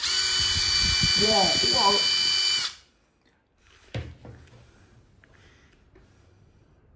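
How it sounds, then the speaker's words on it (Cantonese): An electric drill whirs loudly and steadily, then stops abruptly partway, followed by a short exclaimed voice and quiet room sound. "咩牌子嘅鑽啊？"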